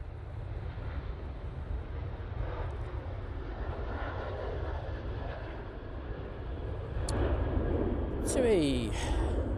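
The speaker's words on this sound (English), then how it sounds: "TUI now departing to Gran Canaria." A TUI airliner departing from Manchester Airport gives a steady, distant engine roar that slowly swells toward the end, with someone speaking over it.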